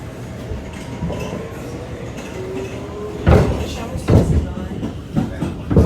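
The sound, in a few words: NYC subway R211 A train riding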